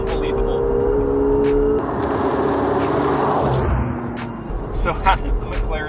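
McLaren 720S sports car accelerating hard, a loud engine roar with gear shifts and a falling then rising pitch, someone talking over the engine noise.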